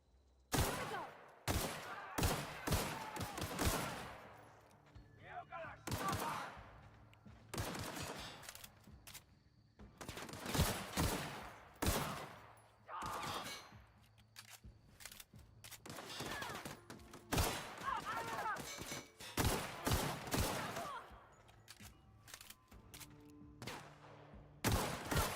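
Repeated gunfire bursts, some single shots and some rapid volleys, echo loudly with short gaps between them during a shootout in The Outer Worlds video game.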